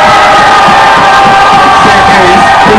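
Crowd at a party on a boat off Zante cheering, whooping and shouting together, loud and dense throughout with a steady roar.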